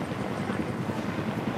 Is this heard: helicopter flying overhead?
yes